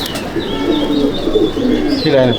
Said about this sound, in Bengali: এই কটা পায়রা আমি ছাড়ছি শখ করাবার জন্য